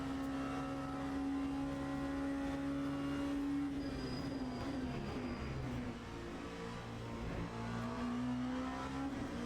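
An LMP2 prototype race car engine in Le Mans Ultimate, droning at high revs with a steady whine that rises and shifts through gear changes, continuous and loud with no talk.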